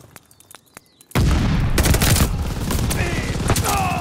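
Call of Duty Vanguard gunfire erupts after a quiet start with a few clicks, then becomes a loud, sustained fusillade of rapid shots and booms from a zombie-mode match.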